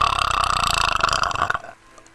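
A long, loud, rattling burp that rumbles steadily for about a second and a half before cutting off into near silence.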